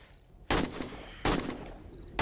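Gunfire from the survival video game 7 Days to Die, Alpha 18, sounds as two loud sharp bursts with ringing tails, separated by about a second of quieter ambience.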